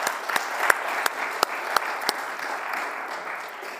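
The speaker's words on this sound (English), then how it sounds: "let's clap" An audience applauds at a mission gathering, a continuous bed of clapping with several sharp, close individual claps standing out near the start before it gradually thins.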